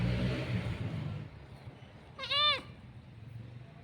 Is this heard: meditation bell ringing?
no